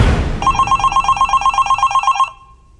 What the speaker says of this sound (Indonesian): tuh HP bunyi lagi.